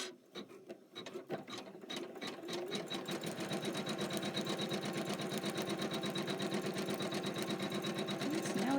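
An embroidery machine stitches a tack-down line on a Kimberbell Wet My Plants mat, a fast steady mechanical rattle that starts in a few separate ticks and then settles into continuous close stitching.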